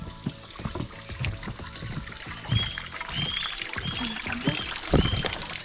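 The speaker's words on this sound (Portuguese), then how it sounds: "Agora a passagem da água está mais baixa, porque por causa da crise hídrica." Shallow stream water running under a small footbridge on a forest trail in the Serra da Cantareira during a drought, a steady close trickle and gurgle with a few splashy bursts, heard without talking.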